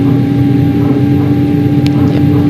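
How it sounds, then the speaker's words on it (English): Jet engines of an Airbus A319 spooling up in the X-Plane 11 flight simulator, a loud steady drone with a strong sustained whine that fills the whole moment with little variation. "You can hear this engines pulling up."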